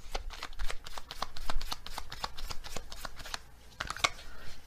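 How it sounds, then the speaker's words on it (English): A deck of animal oracle cards being shuffled and drawn: a rapid run of crisp, papery flicks and snaps, close and fairly quiet, ending in a few separate card slaps. "Okay, let's get another animal card."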